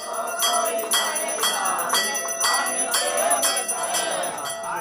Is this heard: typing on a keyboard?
no